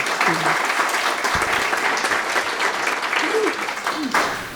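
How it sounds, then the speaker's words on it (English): Audience applause fills an awards ceremony hall, a steady wash of many hands clapping, loud and close, sustained throughout with no gaps. "A round of applause for Lisa"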